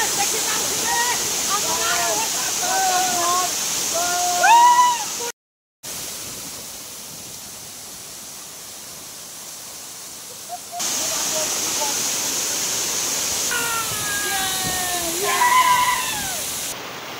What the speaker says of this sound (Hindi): तो वाटरफॉल देखिपे बहुत खूबसूरत अच्छे।